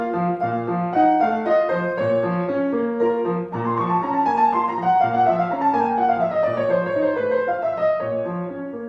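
Simple piano notes and chords sound clearly and steadily, close and even, in a slow melodic line with sustained tones and no voices.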